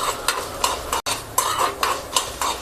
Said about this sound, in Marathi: चला उडीद डाळ आपण घालून आता भाजून घेऊया.